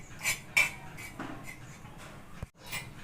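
A spoon scrapes and taps in a pan while a natural hair dye mixture of turmeric and cloves is stirred over a low flame, with a few soft metallic clinks and scrapes, quiet and close, no talking.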